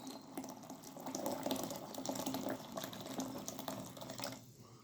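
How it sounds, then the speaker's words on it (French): Boiling water from a kettle pours steadily into a paella pan with oil, salt and pepper, a soft continuous splashing and sizzling trickle that is fairly faint, fading out at the end. "Allez, on va rajouter de l'eau"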